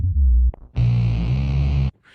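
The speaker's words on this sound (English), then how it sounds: "the bass line is me singing through the microphone, it goes through the effects pedal and gets manipulated to sound like a bass like this" A voice sung into a microphone and run through an effects pedal, processed into a deep, droning bass-like tone, with a short low burst, a brief gap, then a sustained thick note lasting about a second.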